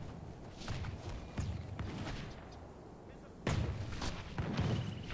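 Gunfire rattles across a battlefield in the strategy game Medieval 2 Call of Warhammer as troops stand under fire, with several sharp bursts and thumps at mid distance amid a continuous background din.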